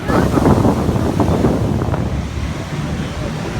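Loud wind buffets the microphone on Copacabana beach in Rio de Janeiro at midnight, with surf washing in behind and people talking nearby.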